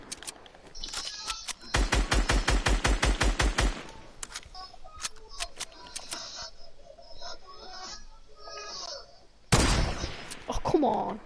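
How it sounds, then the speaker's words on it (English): Rapid bursts of assault rifle fire in a PS4 shooter game, a long sustained volley followed by scattered shorter shots and a loud final burst, with game effects between. "That was terrible shooting."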